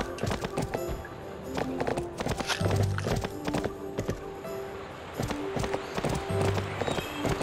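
Galloping horse hooves from the video game Barbie Horse Adventures, a steady repeated clip-clop running through the whole stretch with occasional thuds and a brief whinny, fairly loud and close.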